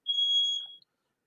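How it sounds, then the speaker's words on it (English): A smoke alarm sounds one loud, steady, high-pitched electronic beep lasting nearly a second before cutting off into silence. "Why is my alarm going off?"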